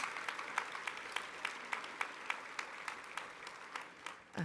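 Conference audience applauding national award winners at a general session, a dense, even patter of many hands clapping, heard from some distance and fairly quiet, with no talk over it.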